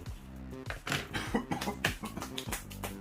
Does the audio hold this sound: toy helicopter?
no